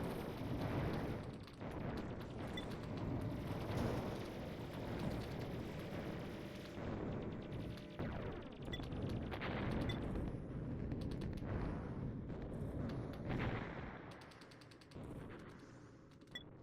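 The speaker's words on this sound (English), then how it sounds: "My proton guns are way too powerful for them." Proton guns firing in the space video game Endless Sky, a dense, continuous barrage of crackling shots and booming impacts with no talk.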